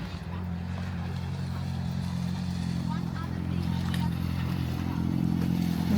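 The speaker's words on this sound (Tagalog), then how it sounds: "Yun pala yung motor na maingay." A noisy motorcycle engine rumbles steadily nearby and grows slightly louder toward the end, with faint clatter behind it.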